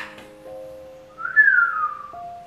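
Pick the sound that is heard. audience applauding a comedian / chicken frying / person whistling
person whistling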